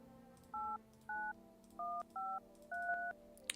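Five short, evenly spaced touch-tone beeps as a telephone number is dialed in the video game No, I'm Not Human, clean and close with a faint click at the end.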